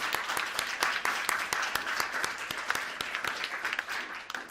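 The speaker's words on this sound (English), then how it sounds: "Let's give Maria-Therese an applause" An audience at a panel discussion applauding, a steady patter of many hands clapping with a few sharper individual claps standing out, sustained throughout at moderate distance.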